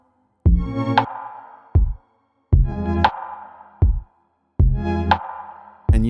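Synthesizer chords run through a delay-like ambient effect. Three loud stabs sound at even intervals, each followed by a shorter, quieter repeat and a fading shimmering tail, with silence between them.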